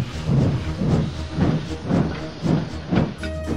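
An old steam locomotive labouring to get a train moving, giving off loud rhythmic chuffs and hisses of steam, about six evenly spaced bursts over a steady rumble.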